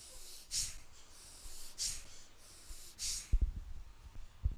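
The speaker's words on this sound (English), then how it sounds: "First round of Bastrika, forceful inhales and exhales," Bastrika yoga breathing during a morning hatha class: three forceful nasal breaths a second apart, each a sharp airy rush, then a cluster of quicker, harder snorting pulses with low thumps near the end, close and fairly quiet.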